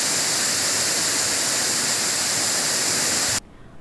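Palaruvi waterfall at Aryankavu roars as a loud, steady rush of falling water, close and constant, then cuts off abruptly near the end into near silence.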